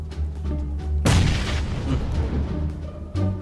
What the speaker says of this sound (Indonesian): Kita granat dulu nih, lantai 2 dia.